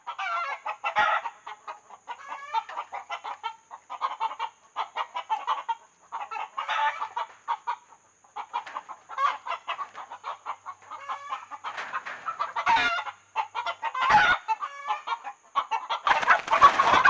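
Chickens and roosters cluck in frequent bursts throughout, with short sharp calls and a few louder crows near the end, fairly close and without any speech.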